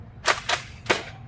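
A Nerf Rival blaster fires in a sniping challenge, three sharp close pops in quick succession, with no talking.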